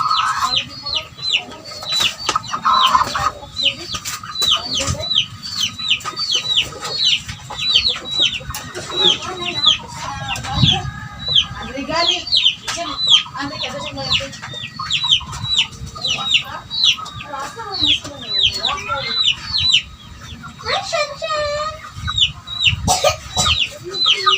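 Several chickens cluck and squawk in a busy, overlapping chorus, with an occasional rooster call and faint talk in the background.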